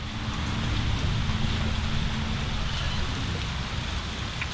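Steady, dense rain pours down nearby without pause, a broad hiss of drops striking surfaces during a downpour heavy enough to flood a garden.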